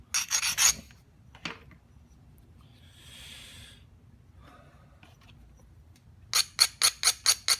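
A carbide grinder working a Pedernales flint point comes in short rasping bursts, then a quick run of six or so rhythmic scrapes at the end, close and alone, with quiet gaps between.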